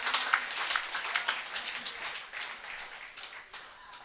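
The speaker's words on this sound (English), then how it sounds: "Let us give the NNP a big round of applause." Applause for the NNP at a women's forum celebrating 40 years, a fairly faint crowd clapping with distinct individual claps in a loose, uneven rhythm, fading gradually.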